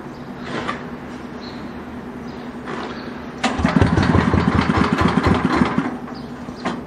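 Gas-powered Power Stroke pressure washer engine running at a low, steady idle, then revving up sharply as throttle is added, with a loud, rapid pulsing chug that holds for several seconds before easing back.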